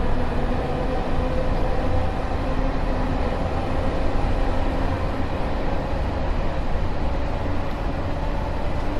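A Bakerloo Line tube train running in Train Sim World 2, a continuous loud rumbling roar of wheels and motors, steady and unbroken throughout with no talk.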